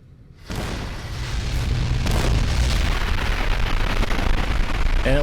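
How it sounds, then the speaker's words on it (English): A grenade explodes in Fallout New Vegas with a sudden loud boom, and a long rumbling, crackling tail follows close by. "Grenade!"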